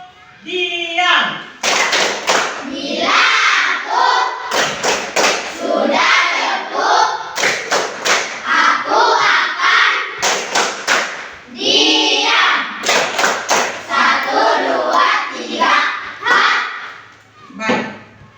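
A classroom of children claps in sharp, rhythmic bursts of group hand-claps, with a teacher's voice talking between and over the rounds.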